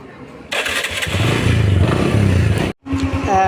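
A Bajaj Discover 135cc motorcycle's self-starter cranks and the engine catches, then idles loudly and steadily, cuts out briefly, and fires up running again.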